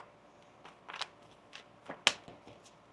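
A tarot deck is shuffled by hand in a few soft, quick riffles and card slaps, close and quiet, with one sharper snap near the end and no talking.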